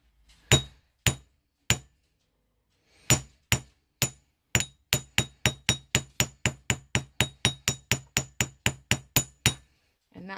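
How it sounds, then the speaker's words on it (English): A small hammer taps a wire heart pendant in sharp, ringing metallic strikes, first a few spaced blows, then a fast, even run of about twenty close, crisp hits. "you could just lightly hammer it, that will strengthen it"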